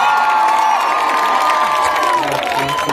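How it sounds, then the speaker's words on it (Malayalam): Argentina fans at a World Cup viewing during an annual day event cheer and shout together in a loud, sustained crowd roar, with children's voices rising above and scattered clapping underneath. "അർജന്റീന ഫാൻസ് നല്ലൊരു കൈയടിക്കാം ഇവിടെ."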